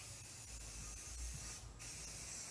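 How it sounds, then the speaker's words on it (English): Aerosol spray can hissing steadily over a bumper rack on a shuttle bus RV conversion, one continuous close spray for most of the clip with a brief dip partway through. "so spray this inside really good."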